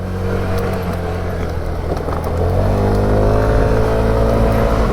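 A Sym Symphony SR 125 scooter engine revs hard and climbs in pitch, its loud buzzing drone rising partway through and holding high, close by.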